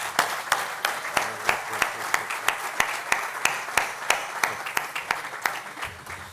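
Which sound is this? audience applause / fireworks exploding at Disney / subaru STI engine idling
audience applause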